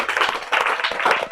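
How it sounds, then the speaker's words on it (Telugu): Children clap together in a classroom, a short burst of brisk, slightly uneven claps repeated in three quick rounds, close and fairly loud. "కొట్టండి, చప్పట్లు కొట్టండి."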